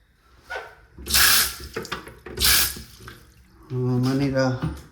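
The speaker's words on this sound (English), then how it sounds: "I need to replace that faucet since it shoots a lot of water." Two loud bursts of gushing water from a faulty faucet in an old trailer, each about a second long, with clattering in between and a voice talking near the end.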